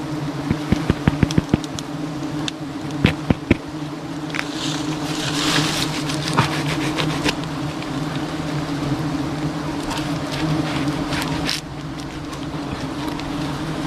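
A large beehive that has fallen to the ground after a natural fire, with bees buzzing around it as a steady, fairly loud drone along with scattered sharp clicks and knocks, outdoors without speech.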